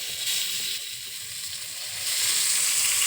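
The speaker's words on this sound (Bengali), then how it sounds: "একটুখানি ছাতু পটল ভাজা করতেছি" Mushroom and pointed gourd frying in a pan, a steady bright sizzle close by that swells slightly louder toward the end, with no talking.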